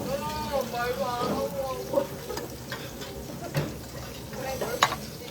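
Mushrooms sizzle and fry in a pan while being stirred, with scraping utensil clicks and taps over a steady crackle, moderately close, with occasional voices in the background.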